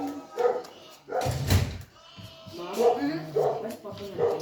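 Dogs at home let out several sharp barks and whimpers in short bursts, close and fairly loud, mixed with people talking nearby.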